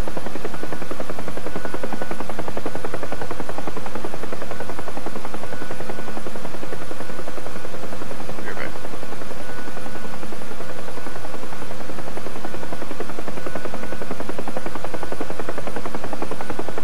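A Huey helicopter from a Vietnam-themed video game flies with a loud, steady rotor drone and engine whine that stays constant and close throughout, with no talk over it.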